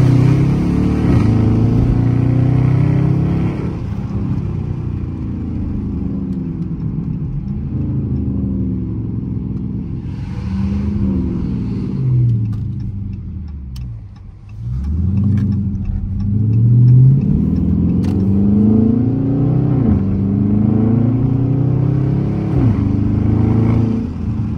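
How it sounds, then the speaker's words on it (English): A Dodge Charger RT engine revs hard in a second gear acceleration pull on an early morning drive, loud and close, rising in pitch, easing, then climbing again through repeated surges. "Second gear pull real quick."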